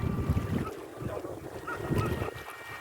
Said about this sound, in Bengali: মাতলার মাতাল করা ঢেউ, তার সঙ্গে খুব সুন্দর হাওয়া।